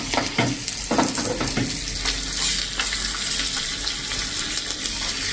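Ginger and chilli pieces crackle and sizzle steadily in hot oil for a tempering, a close, continuous frying hiss with a few louder scraping stirs near the start.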